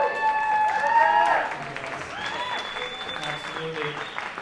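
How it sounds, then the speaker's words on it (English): Audience applause after a couple's dance performance at a local dance competition event, a dense burst of clapping that swells early and then settles into steadier, thinner clapping with cheers and crowd murmur underneath. "Another round of applause for our last."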